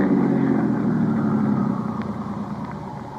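A car engine running at idle, a steady low rumble close by that eases slightly in loudness toward the end, with no talk over it.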